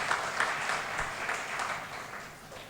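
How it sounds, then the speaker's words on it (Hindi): Audience applause for the poet Rajesh Agrawal at a Hindi comedy poetry gathering, a steady wash of clapping lasting throughout at moderate level and easing slightly toward the end. "एक बार राजेश जी के लिए भी तालियां बजाइए साहब।"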